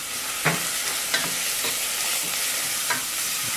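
Onions sizzling in a pan while being stirred, a steady hiss broken by a few sharp scrapes and taps of a utensil, close up and with no talking.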